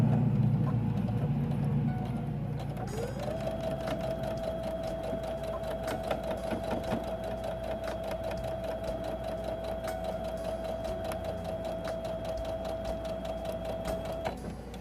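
A sewing machine stitches through a towel in a steady, fast, unbroken run, its motor hum holding a continuous whine with a rapid needle rattle, close and moderately quiet.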